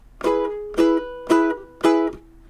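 Four evenly spaced ukulele strums, each ringing briefly before being choked off, giving a bouncy, clipped rhythm, close and clear.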